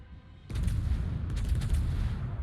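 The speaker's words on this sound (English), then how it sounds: "Somebody is shooting at you." Ship artillery fire in World of Warships with a heavy booming volley that erupts suddenly and rumbles on, followed by further distant shell blasts, loud and dense with no talking.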